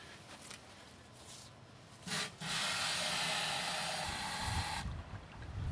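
Water from a garden hose pours into a backpack sprayer tank, a steady broad hissing rush that starts abruptly after a brief splash and runs for several seconds before cutting off, fairly close and alone.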